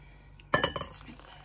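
Kheer is dished out with a spoon into a serving dish, a quick cluster of metal-on-dish clinks and scrapes heard close up after a brief quiet moment.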